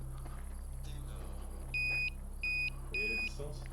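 Three short, high electronic beeps in quick succession, fairly clear over a low steady hum, with faint indoor background.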